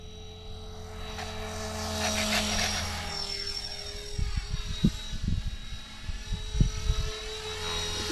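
A Blade 330X radio-controlled helicopter flies nearby with a steady high-pitched rotor and motor whine. Pitch shifts as it maneuvers, with some gusty wind buffeting in the second half.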